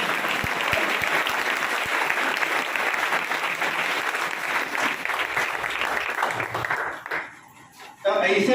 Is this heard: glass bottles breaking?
no